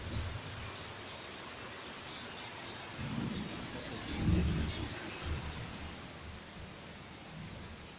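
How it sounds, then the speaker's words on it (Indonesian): Steady rain pours outdoors on a dark afternoon in Subang, with low rumbles of thunder swelling briefly around the middle before fading back into the constant downpour. "Subang diguyur hujan"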